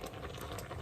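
Shrimp boil in a pot of water on the stove, a steady close bubbling and rolling simmer with no speech.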